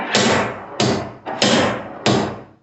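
Four sharp hammer whacks land on a steel body panel of a 1980 Triumph TR7 while it is pulled out. Each loud, close, metallic hit rings briefly before it decays, and the strikes come at an uneven, roughly half-second rhythm.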